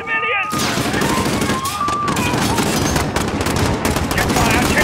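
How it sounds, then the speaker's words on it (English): Rapid automatic gunfire from Call of Duty: Modern Warfare (2019) in a dense, loud fusillade of overlapping shots and bursts, with shouting voices mixed in. "They're firing on civilians!"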